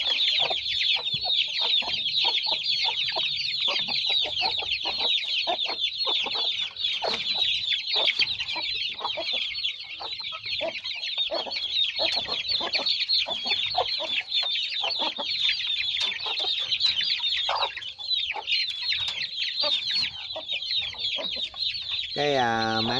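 A flock of chicks and a mother hen at evening feeding and watering, constant dense high peeping and clucking close by, with brief bursts of louder calls throughout.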